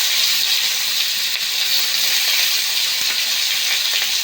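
Chopped onions frying in oil with whole cardamom, cloves and peppercorns, a steady close, loud sizzle with a constant hiss and no pauses.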